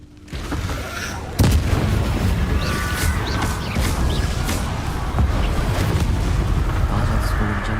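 Confringo fire spell explosions during a Hogwarts Legacy video game battle, a loud crashing blast followed by continuous rumbling combat noise with scattered impacts and clatter.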